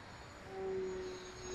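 An electric annular-wing model aircraft flying at full throttle, giving a steady high motor whine with a faint propeller buzz that swells slightly as it passes.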